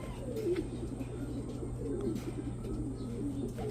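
A racing pigeon coos softly just after landing at a club training loft, low throaty murmurs that repeat over a steady background hum, with a few faint chirps from other birds nearby.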